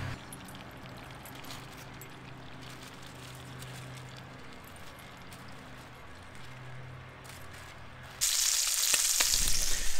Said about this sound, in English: getting the bacon nice and crisped, and the pork should be completely cooked very shortly